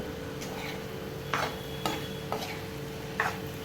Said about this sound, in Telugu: సో ఈ విధంగా తాలింపు పొడి వేసిన తర్వాత ఒకసారి బాగా తిప్పుకోవాలి